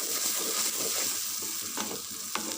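Crushed red chilli masala sizzles steadily in a pan for an egg masala, a close continuous frying hiss with a couple of soft spoon scrapes toward the end.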